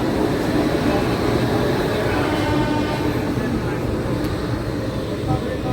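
The Konark Express pulls out of Bhubaneswar railway station, a loud, continuous rumble and rattle of rolling stock that holds steady throughout, with the roar sitting close.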